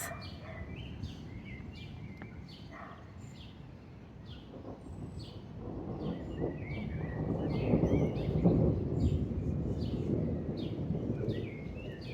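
Low thunder rumbles in the distance, swelling and fading slowly, while birds chirp repeatedly nearby.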